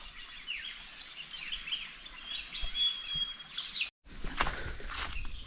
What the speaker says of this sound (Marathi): पाखरांचा आवाज बघा